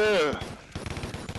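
Rapid bursts of gunfire from a big gun in a VR zombie video game, a fast stuttering volley after a brief vocal exclamation, moderately loud.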